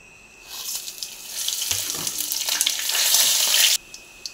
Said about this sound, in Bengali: গোটা মশলাটা ভাজা হয়ে এসছে।